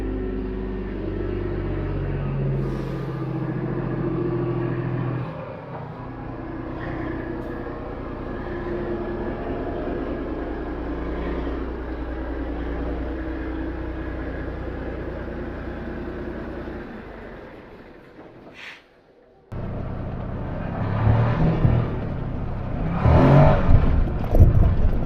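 A side-by-side utility vehicle rumbles along with a steady low engine drone, fading briefly before a louder, rougher burst of driving noise near the end, with no voices.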